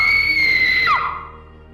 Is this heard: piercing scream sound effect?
yes